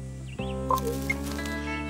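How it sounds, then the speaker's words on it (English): A raven gives a few short, varied croaking and clucking calls over a steady tonal music bed, the calls brief and scattered across a couple of seconds. "A raven can make so many different sounds."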